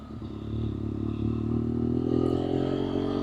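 BMW F800R motorcycle on a weekend ride gives a steady close engine drone with a slight rise in pitch, along with wind rush and clatter and no talk.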